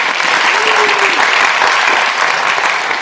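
An audience claps in a steady, dense round of applause from start to finish at a speech and debate awards event.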